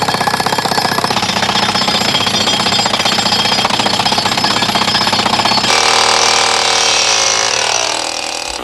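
A jackhammer pounds the ground at a dig, a loud, rapid, steady hammering rattle with engine drone, shifting to a rougher grinding tone near the end before tapering off, no voices.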